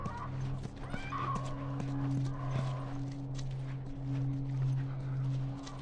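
In The Last of Us, a horse's hooves clop slowly and irregularly at moderate distance over a steady low hum, with a faint snort or whinny and a few brief voiced sounds.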